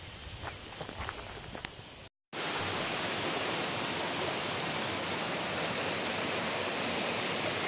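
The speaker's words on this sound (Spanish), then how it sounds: "La quebrada Colegurre." Steady, dense rush of a mountain stream on a farm, loud and continuous after a brief dropout, with a few faint background sounds before the gap.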